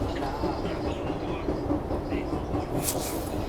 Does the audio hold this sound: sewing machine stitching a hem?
no